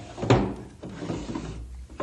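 A wooden desk drawer slides open with a short scraping thud near the start, followed by faint rummaging and light knocks inside the drawer, close and fairly quiet, with no voices.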